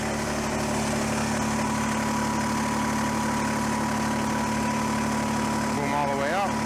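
Kubota BX23S compact tractor with backhoe, diesel engine idling steadily with a constant low hum and vibration as the machine is eased forward, a faint squeal or whine rising near the end.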